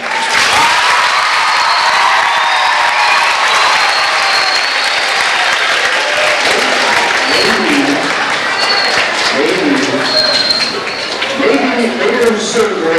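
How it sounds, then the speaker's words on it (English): School event audience, including students by grade level, claps and cheers loudly in a sustained burst, with voices and shouts mixed into the dense applause throughout. "Let's do some real applause this time."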